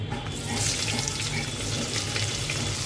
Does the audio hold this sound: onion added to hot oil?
yes